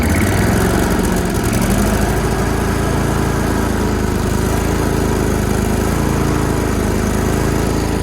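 Zero-turn lawn mower engine running continuously and loud, a steady close droning rumble with a rough, uneven sputter at the very start as it catches.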